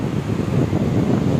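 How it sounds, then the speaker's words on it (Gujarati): A new air conditioner blows a steady, close, low, rushing stream of air, a constant breathy rumble with no breaks. "અને આ અમારી ન્યૂ એસી છે"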